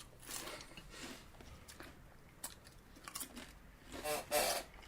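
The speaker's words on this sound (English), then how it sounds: "It's crunchy. Is that rare to find in a potato chip?" Someone bites into and chews a crunchy potato chip, a series of irregular close crackling crunches that grow louder toward the end.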